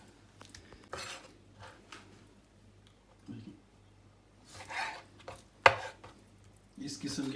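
A knife cuts baked chicken breast meat into medium pieces on a board, scattered soft chops and clacks with a few sharper knocks, fairly quiet, with a voice speaking now and then.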